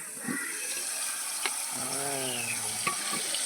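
Tomatoes cooking in a pan for a prawn dish, giving a steady soft sizzle with faint bubbling and occasional clicks of a utensil against the pan, close by with no talk.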